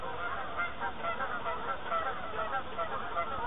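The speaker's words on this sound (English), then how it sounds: "with some geese flying over the top" A flock of geese honks steadily as it flies over a very large walled garden, the calls continuous, moderately loud and layered, with no voices among them.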